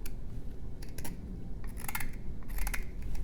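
Sloyd knife carving a wooden spoon, heard as a few short, crisp shaving and slicing strokes over a steady low background rumble, close by with no talking.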